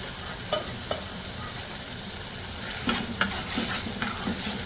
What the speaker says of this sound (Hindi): तो अच्छी तरह भूनने के बाद जब आप देखें कि ऑयल बिल्कुल सेपरेट हो गया है